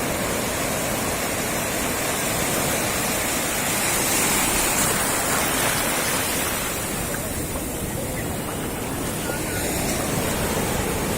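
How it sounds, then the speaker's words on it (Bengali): Sea waves break along the beach at Cox's Bazar, a dense, continuous roar of surf with wind noise over the microphone, steady and loud throughout. "দেখছেন কত বড় বড় ঢেউ আসতেছে এখন"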